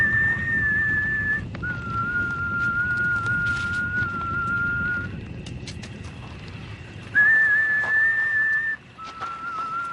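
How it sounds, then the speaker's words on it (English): A whistled signal like the Saviors' whistle from The Walking Dead: a held, steady high tone, a short break, then a longer held note. It pauses again and returns as a sharper, louder note, over a low rumbling background with no talking. "That's a very distinct whistle kind of signal that they do in The Walking Dead."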